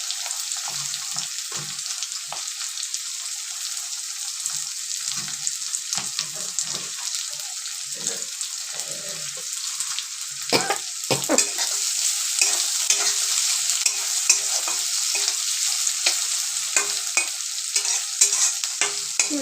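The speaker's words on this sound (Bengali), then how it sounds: "লাল লাল করে ভাজতে হবে একটু।" Chopped onions fry in hot oil in a pan with a continuous close sizzle, broken by scraping stirs that grow busier and louder in the second half.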